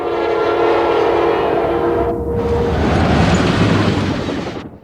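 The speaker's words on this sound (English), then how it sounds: "A brand new GP59 was leading train 247 that morning" A brand-new EMD GP59 diesel locomotive, running long hood forward, leads Norfolk Southern freight train 247 on the Piedmont Division, its horn blowing loud and steady over a continuous rumble of engine and rolling railcars close by.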